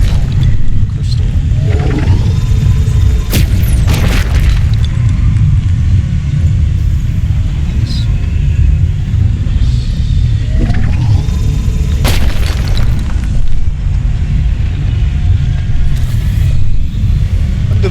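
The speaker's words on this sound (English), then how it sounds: "Man, that power plant is loud." A power plant in a video game rumbles loudly and continuously with a deep, booming drone, punctuated by occasional sharper metallic bursts, and no speech over it.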